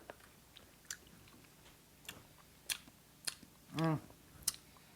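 Chewing while tasting thick homemade hummus, quiet close mouth clicks and smacks scattered over a few seconds, with one brief louder vocal sound.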